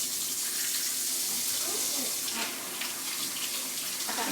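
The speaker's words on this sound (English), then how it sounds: "Now I'm going to wash my hands." Tap water running into a kitchen sink during handwashing, a steady close hiss and splash lasting several seconds with slight changes as hands move under the stream, alone with no talking.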